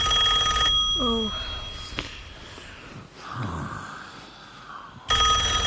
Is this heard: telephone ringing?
yes